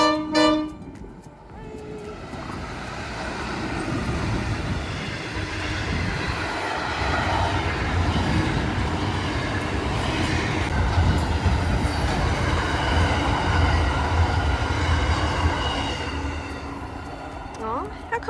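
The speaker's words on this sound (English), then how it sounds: "And there's a train coming." A train rolls past on a railway line in the outback, a steady loud rumble of wagons lasting throughout, with a brief horn toot near the start and a voice talking faintly over it.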